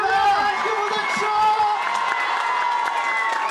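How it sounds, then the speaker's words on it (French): A concert audience at an MTI Music Tour show cheers, whoops and applauds together, a dense, steady roar of clapping and shouting voices with some tonal sound running underneath. "On les applaudit très fort."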